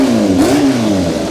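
A Yamaha FZR 1000 EXUP motorcycle engine, warmed up, revs briefly, its pitch rising and dipping in a steady, loud drone with a rough low rumble.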